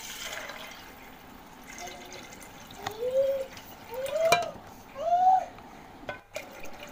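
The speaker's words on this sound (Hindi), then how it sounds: "अब हम इसमें पानी डालेंगे।" Water is poured over kidney beans in a pressure cooker, giving soft gurgling splashes in a few short bursts, fairly quiet in a room with faint background noise and a brief vocal sound.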